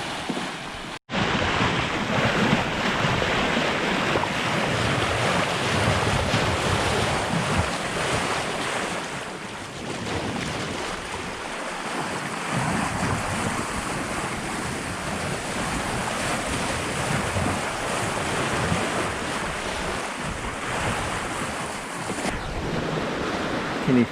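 A Hallberg-Rassy 54 sailboat moves through open ocean water at about 7 knots, with continuous rushing waves, hull wash and heavy wind buffeting the microphone throughout. No voices are heard.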